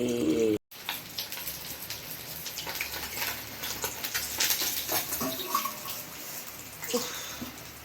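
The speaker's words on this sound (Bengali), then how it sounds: "এই জলটাই আমি এবার এখন একটু দিয়ে দেবো আস্তে আস্তে" Slightly warm water is poured slowly into a pan of braising chicken, giving a steady, close splashing and gushing that runs continuously after a brief cut near the start.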